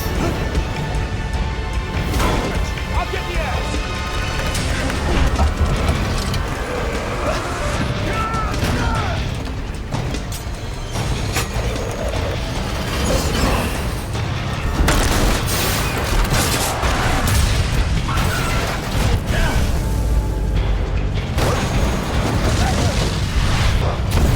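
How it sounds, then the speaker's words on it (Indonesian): Long stretch of heavy crashing, booming impacts and grinding metal debris as a train derails, overturns and explodes, loud and chaotic throughout, with a voice speaking over it. "kereta anjlok, terguling dengan keras, menabrak apapun di depannya, hingga terlontar menimbulkan ledakan"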